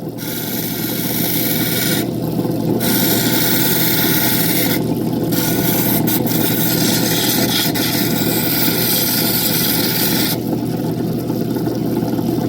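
A rotary tool polishes an opal pendant, a loud, close, steady grinding whir broken by a few brief dips where the tool lifts off the stone, with no talking.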